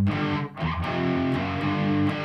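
Distorted electric guitar playing a riff, a loud, continuous chugging and sustained chordal line with a brief dip midway, heard alone without voices.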